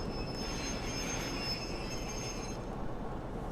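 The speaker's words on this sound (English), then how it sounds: "This is our train." A passenger train in Train Sim World 5 rolls along with a steady rumble of wheels on rails, while a thin high squeal runs over it and then stops partway through.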